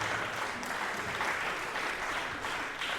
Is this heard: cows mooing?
no